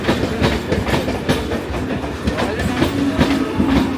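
Kolkata local train running, a loud continuous rumble with rhythmic clickety-clack of wheels over rail joints heard from inside the carriage.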